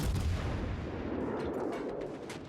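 Naval gunfire from a warship firing high-explosive salvos in World of Warships Legends: a heavy deep boom at the start, then a rumbling decay with scattered distant cracks, and no voices.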